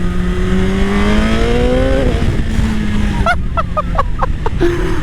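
Suzuki GSX-R 1000 sport motorcycle with a quickshifter, engine revving and rising in pitch before a quick shift, then a series of short sharp pops, loud and close with steady engine drone throughout.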